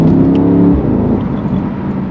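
Mercedes-AMG SL63 with biturbo V8 downshifting through several gears, a loud close exhaust roar that drops in pitch with rough crackling pops as it settles, heard alone.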